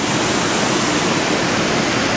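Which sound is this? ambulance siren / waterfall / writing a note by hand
waterfall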